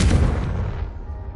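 A Confringo blast from the Hogwarts Legacy video game lands as a single loud, close explosive boom that fades over about a second into a rumbling tail, with no voices over it.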